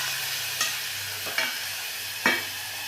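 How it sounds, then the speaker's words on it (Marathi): Tomatoes sautéing in oil in a pan for a green pea vegetable dish, a steady soft sizzle with three distinct spoon-stir scrapes spaced through the stretch, close and without talk. "दोन मिनिटं टोमॅटो आपल्याला परतून घ्यायचं आहे."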